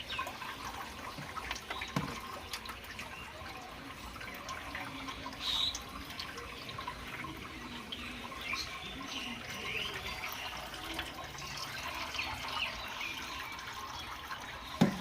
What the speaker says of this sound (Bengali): জলটা মিক্স করছি